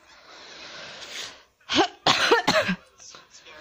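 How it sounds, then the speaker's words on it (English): Several sharp coughs, close and loud, come in a short cluster after a soft breathy hiss. "Sorry if I'm coughing."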